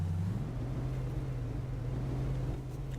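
A low engine drone holds a steady pitch, rising slightly at the start, as a Ford F-450 Super Duty pickup idles and revs in American Truck Simulator.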